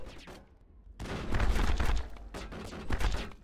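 Repeated gunfire in the sci-fi shooter Mass Effect, with a quiet lull before dense, heavy bursts of shots and impacts that continue through to the end.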